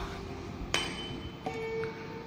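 A sonometer wire is struck with a hammer in a home practical setup, giving two sharp metallic clinks with a short ringing tone after each, heard alone and fairly faint.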